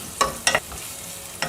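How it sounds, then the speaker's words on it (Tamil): Chopped onions and curry leaves sautéing in oil, a soft steady sizzle broken by a few brief scraping stirs of a spoon, close and fairly quiet. "இதை வதக்கணும்."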